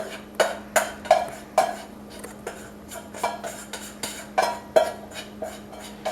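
Cooked rice being stirred into sauce in a pan, with a utensil scraping and clinking against the pan in a steady series of sharp knocks roughly every half second, close and clear over a faint background hum.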